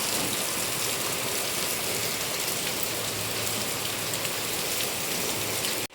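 Heavy rain pours steadily on a village, a dense, even roar of drops on surfaces lasting throughout before cutting off abruptly.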